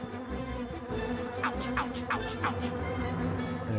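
Buzzing bees in The Grinch video game for PS1, a steady insect drone with repeated swelling buzz bursts over a layered game soundtrack, loud and close with no talking.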